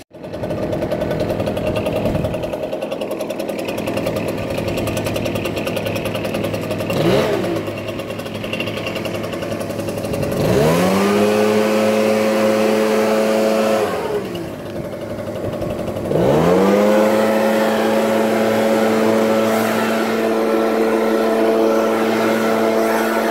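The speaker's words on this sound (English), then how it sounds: "But I'm gonna throw the blower on and we're gonna take a look." A leaf blower runs during lawn care in a newer yard, a loud steady engine drone with its pitch swooping up as it revs near 10 and 16 seconds, continuous throughout with no talk.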